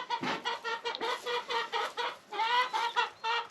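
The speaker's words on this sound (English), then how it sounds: "if y'all have chickens, are they always this noisy?" Hens cluck continuously nearby, a busy overlapping run of short, pulsing calls with no talking.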